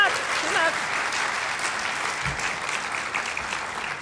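Applause from a conference audience honoring an award recipient continues at moderate level, a steady patter of many hands, with a speaker's voice talking over it near the start and a brief thump partway through.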